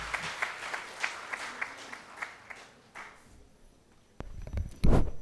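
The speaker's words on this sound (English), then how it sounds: "Ladies and gentlemen, give a loud round of applause for Nikita Maheshwari." At an education-to-entrepreneurship program event in Ahmedabad, an audience gives a fairly thin round of applause that fades after a few seconds. Close bumps and handling noise follow.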